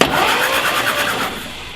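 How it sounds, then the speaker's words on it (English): The engine of a 1952 Willys Wagon barn find cranks over on its starter, a loud, close, rhythmic churning that holds steady for a couple of seconds without catching. "So the engine turned over."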